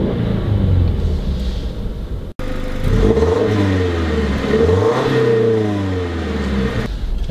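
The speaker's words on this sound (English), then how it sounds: "I'll give the car a little rev." A 2020 Subaru Levorg GT's engine revs up and falls back several times, the pitch sweeping up and down over a steady idle rumble, close and loud.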